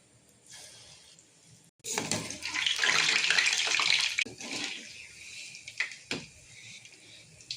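Sweet bonda batter made with jaggery drops into hot oil in a kadai. A quiet pause gives way to a sudden burst of loud sizzling and bubbling that gradually settles into softer frying crackles.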